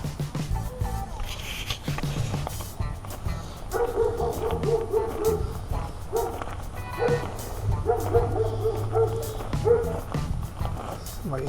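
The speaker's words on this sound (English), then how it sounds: "Somebody's dog's going apey." A dog barks and yips repeatedly some distance off, its calls rising and falling over about ten seconds beneath steady outdoor background noise.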